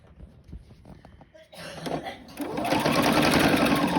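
A sewing machine stitches a straight seam, starting after a few soft handling noises and then running in a steady, close, rapid mechanical whir for the last couple of seconds.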